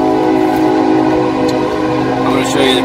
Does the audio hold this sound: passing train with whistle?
yes